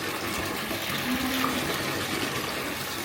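Toilet flushing after being cleaned with vinegar and Dawn dish soap in a bathroom under renovation, a steady rushing of water heard alone at an even level for about three seconds.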